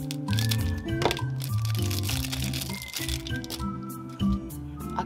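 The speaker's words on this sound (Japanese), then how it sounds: "続きましてこちらは開封してみましょう。" Plastic packaging of nail products, including an acrylic gel, crinkles and crackles as it is opened, with a steady run of close crumpling over tonal sounds in the background.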